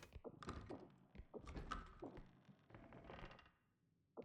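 Door in the REPO video game, a few soft thunks and creaky mechanical clicks at low volume, scattered over a few seconds.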